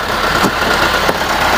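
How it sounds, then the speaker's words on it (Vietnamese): Isuzu-technology engine of a Thaco Truong Hai Ollin 350 truck idling nearby, a steady loud rumble with a couple of brief ticks, no talk. "máy được sử dụng ở trên chiếc xe Olin 350 này được Taco Trường Hải lắp ráp là máy công nghệ Isuzu"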